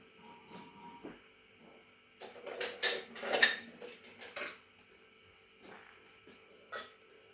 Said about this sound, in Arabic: خلطو الحوت ديالنا مزيان